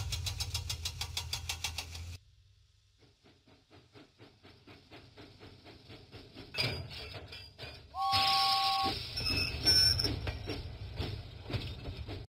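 James the steam engine in a Thomas and Friends Trainz game, puffing in rapid rhythmic chuffs with hissing steam, pausing briefly, then building again as a whistle blows and the puffing grows louder.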